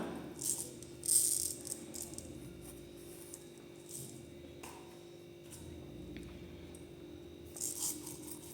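Sequins for aari embroidery are handled in a small container, giving light, scattered rattles and clicks. A couple of brief louder bursts stand out against quiet background hum.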